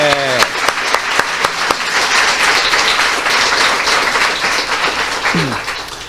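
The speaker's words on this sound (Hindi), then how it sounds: "सो आइए हम ऐसे पुनर्स्थित प्रभु के लिए एक जोरदार ताली बजाएं।" A church congregation on Resurrection Day breaks into loud applause, dense clapping that swells and continues for several seconds, with a voice over it at the start and end.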